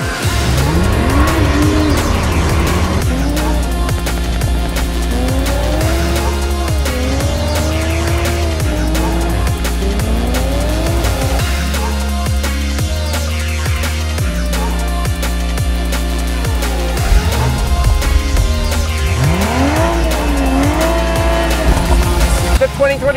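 A 2021 Toyota Supra sports car drives hard, its engine rising and falling through loud repeated revs with brief tire squeal, sustained and close throughout.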